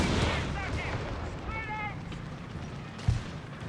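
Rocket artillery in Company of Heroes 3, a busy battlefield of distant firing and thuds with a sharper impact near the end, under a commentator's voice.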